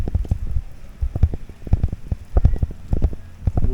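Rain falls steadily in Lembang on an overcast late afternoon, a dense patter of irregular drops striking nearby surfaces with no voices over it.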